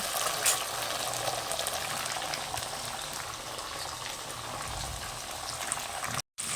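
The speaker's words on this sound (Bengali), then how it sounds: "সিমটা দিয়ে পাঁচ মিনিটের মতো নাড়াচাড়া করে তারপরে একে একে দিয়ে দেবো কাঁচা লঙ্কা আর টমেটো" Flat beans (sim) sizzle and bubble as they are stirred and fried in a pan, with a continuous moderate hiss and a brief drop to silence near the end.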